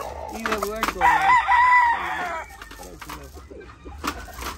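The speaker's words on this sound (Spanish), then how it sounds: "Es un gallo" A home-bred rooster lets out one loud, close crow lasting about a second and a half, followed by softer clucking and a few short bird sounds.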